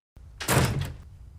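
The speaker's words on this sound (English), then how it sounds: "Shut the door." A door shuts in a scene from the crime drama The Wire, a single solid thunk with a short broadband burst that fades quickly, heard alone with no talking over it.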